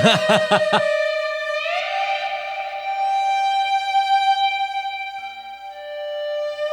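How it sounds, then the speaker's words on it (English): A few quick plucked notes, then a long sustained slide electric guitar tone sliding up in pitch and ringing on smoothly, close and clear. "I can do it on an electric guitar"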